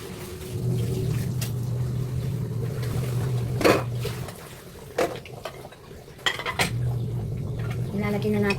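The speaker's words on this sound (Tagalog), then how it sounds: "Takpan muna natin." A lid is set on a cooking pot of beef caldereta. Metal clanks and clinks ring out over a low simmer, and a voice speaks at moments in the background.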